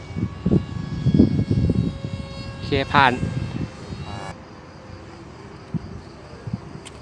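An airplane drones overhead above an open field where large Chula kites from Korat are being flown, its low engine hum running steadily beneath nearby talking, with insects buzzing and a thin whine in the background.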